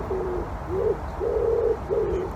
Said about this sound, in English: You can hear my pigeon.